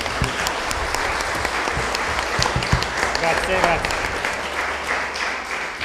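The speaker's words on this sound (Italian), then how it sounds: "chiedo subito un grande applauso" Audience applause at a round-table book event with an author, steady clapping filling the room throughout while a voice briefly speaks over it.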